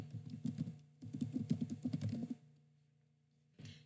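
Fast bursts of typing on a computer keyboard, close and clear, two runs of clicking keys separated by a brief pause, then a short quiet gap before a final burst of keystrokes.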